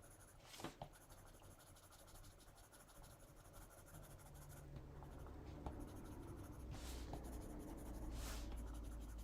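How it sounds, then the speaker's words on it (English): A colored pencil shades on paper while outlining the contour of a birch tree, producing soft, continuous scratchy strokes with a faint rhythmic back-and-forth, close and quiet with no talk. "I'm doing this with my colored pencil."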